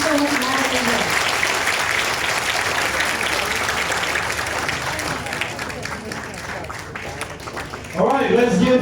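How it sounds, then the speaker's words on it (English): Sustained applause from an audience at a closing speech of an Asia tour event, steady clapping that continues for several seconds before a voice briefly cuts in near the end. "let's give our mentor, Kim Reed, another round of applause"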